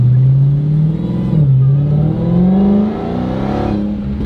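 A Dodge Hellcat's engine roars loudly up close, its pitch climbing through gears in rising sweeps with a brief dip between shifts, heard alone without talk.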